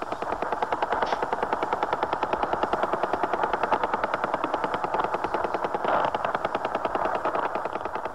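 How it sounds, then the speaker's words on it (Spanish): A powerful radar signal picked up on a shortwave radio receiver, a steady, fast, rapid-fire pulsing buzz that repeats evenly and loudly throughout with no voices. "resulta ser una señal de radar muy poderosa que permite detectar cualquier intruso todavía a grandes distancias de las fronteras rusas"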